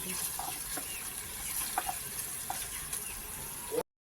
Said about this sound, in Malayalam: വഴഞ്ഞു വന്ന സവാളയിലേക്ക് ഇഞ്ചി വെളുത്തുള്ളി പേസ്റ്റ് ചേർത്ത് നന്നായി ഇളക്കിയെടുക്കുക